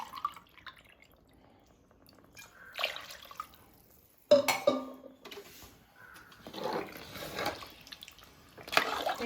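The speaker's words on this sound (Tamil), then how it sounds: "தண்ணி ஊற்றி நல்லா கிளறிட்டு மூடி வச்சிடலாம்." Water poured into a pot of mutton biryani and stirred, with intermittent splashes, drips and scraping clatter of a spoon against the pot, close and fairly quiet.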